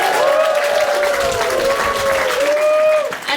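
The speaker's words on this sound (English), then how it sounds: "Big round of applause." Wedding guests break into sustained applause right after the couple is declared married at the ceremony, a steady wash of clapping with a few cheers, dipping briefly near the end.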